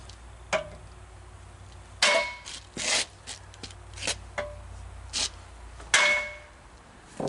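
A hammer strikes the spindle of a 4x4 square body truck to knock it loose, a series of sharp metallic clangs at irregular intervals with faint rubbing between hits.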